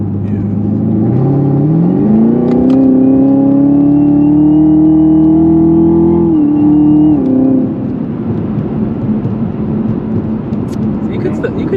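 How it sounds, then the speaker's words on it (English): A supercharged 2018 Chevrolet Camaro ZL1 revs up with a rising engine note and supercharger whine, holding steady and loud before easing off, with talk over it. "I want to hear the whine, especially I have a supercharged car"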